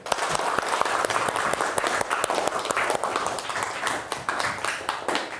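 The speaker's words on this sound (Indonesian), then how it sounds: "tepuk tangan untuk semuanya yuk" A room of schoolchildren clapping their hands together in a classroom, with loud, fairly close, rapid, uneven claps that run continuously and overlap, while a faint voice sounds beneath them.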